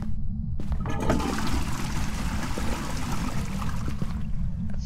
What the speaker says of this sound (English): I think it just flushed the toilet.